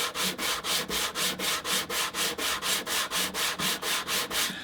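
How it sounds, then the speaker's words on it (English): Leather bracelet edges are rubbed on flat sandpaper in even, rapid back-and-forth strokes, about four per second, close and steady with no voices. "now I'm just going to hit this one more time on the straight edges with our flat sandpaper"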